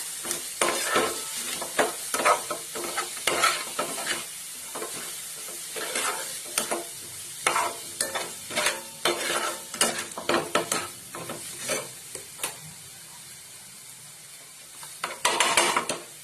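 Spiced oil with turmeric, coriander powder and fresh coriander sizzling in a pan for a dry potato bhaji, with a spoon scraping and stirring through it in quick, repeated strokes, close and fairly loud, with no talk.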